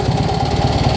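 A Polish lawn tractor serving as an aircraft tug runs just after starting, its small engine chugging in a steady, loud, close putter.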